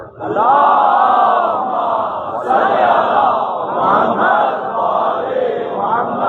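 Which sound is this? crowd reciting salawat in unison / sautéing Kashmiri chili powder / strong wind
crowd reciting salawat in unison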